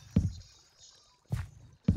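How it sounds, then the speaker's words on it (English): Water in Minecraft: three soft, splashy sloshes spaced about a second apart over a faint steady hiss, each a brief low swirl of moving water. "I hear water"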